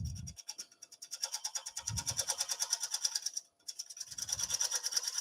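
A wood gouge cuts the cap line of an acorn on a carved gate post finial, giving a series of close, rhythmic rasping and scraping strokes, with a few soft low knocks between them.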